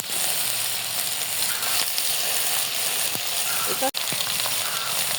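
Small fish fry in oil with onion and chili in a pan, a steady close hiss and crackle that runs throughout, broken by a brief pause near the end and some soft stirring.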